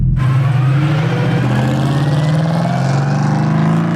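A factory-built Camaro GT4.R race car, 500 horsepower with a six-speed sequential air-shifted gearbox, revs hard and steadily up close, its loud engine note holding and climbing slightly throughout with no talking.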